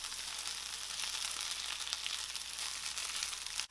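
Chorizo with potato, onions and garlic fries in a hot pan, giving a steady, dense sizzle that crackles evenly throughout with no voices.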